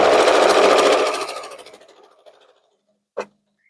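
A sewing machine stitches a reversible fabric basket made from layer cake squares, a loud steady run for about a second that slows and fades, followed by a short sharp click.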